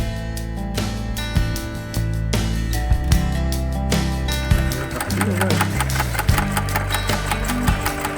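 A Riccar sewing machine runs close up in a steady, fast mechanical rattle, picking up speed as it stitches, with a person talking over it.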